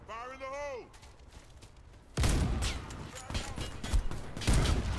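Gunfire in the shooter game Warface: a dense, loud burst of shots crackles for several seconds right after a spoken voice.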